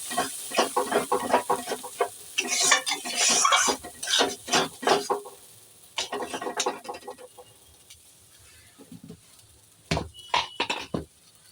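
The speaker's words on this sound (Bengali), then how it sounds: "এবার ভালো করে কষিয়ে নেব" Green pea filling for paratha being stirred and sautéed in a pan, a run of scraping, clattering spatula strokes in uneven bursts, close and fairly loud with brief pauses between.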